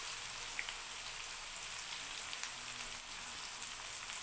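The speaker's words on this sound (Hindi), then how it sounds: "लहसुन को हमने तकरीबन एक मिनट तक फ्राई कर लिया" Garlic frying in a pan over medium heat while making a mixed vegetable sabzi, giving a steady, soft crackling sizzle throughout without any talk.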